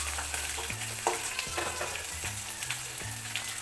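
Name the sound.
grated ginger, chilies and curry leaves frying in oil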